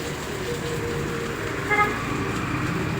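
A brief car horn toot sounds once amid steady traffic and road noise, fairly distant.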